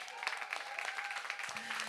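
Applause from a crowd at the opening ceremony of a Relay for Life charity event, a brief stretch of fairly soft, continuous clapping with a faint voice underneath.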